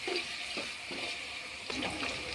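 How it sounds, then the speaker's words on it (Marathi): Ginger, garlic paste and onion frying in oil for a chicken biryani, a soft steady sizzle up close with a few light scraping stirs of a spoon in the pan. "अद्रक लसण आणि कांदा छान तेलात होऊ द्यायचा आहे। मिक्स करून घेऊया व्यवस्थित।"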